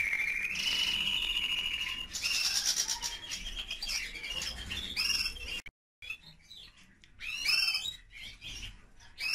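Canary chick in an aviary chirps and peeps in bright, rapid bursts, with fluttering and other bird calls around it, continuing with a brief pause midway.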